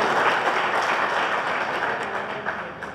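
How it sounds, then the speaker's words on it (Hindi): Applause from a crowd welcoming Congress workers who are joining the BJD at a political gathering in Jajpur, Odisha: dense, steady clapping that runs loud and unbroken throughout. "गोटे जोर करताली सहित आम से स्वागत करूँ"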